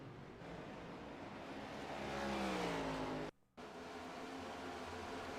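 Race cars circling Nashville Superspeedway under the lights, a steady engine roar that swells into a rising, high-pitched whine of a car accelerating past, then cuts out briefly before the broad drone resumes.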